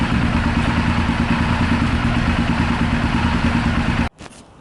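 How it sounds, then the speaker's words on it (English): Honda VTR 1000 Firestorm motorcycle engine running at a steady idle, a loud close rumbling beat with mechanical clatter that cuts off abruptly near the end, no talking. "Okay, let's start the bike first."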